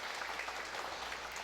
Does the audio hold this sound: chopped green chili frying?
no